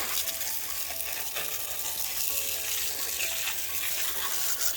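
Water splashes and gushes steadily over freshly dug dahlia tubers as they are rinsed off, a continuous close hiss with no talking.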